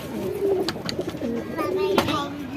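Indian Shahjahanpuri pigeons, including a large male, give soft repeated throaty coos close by, interspersed with brief flutters and clicks, while someone speaks quietly.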